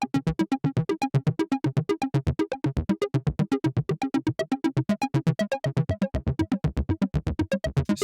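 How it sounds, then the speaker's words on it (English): A synth arpeggiator runs a fast, evenly pulsing sequence of short notes through a delay effect, steady and close with no voices. "So another really popular thing with an arpeggiating or sequence is delay,"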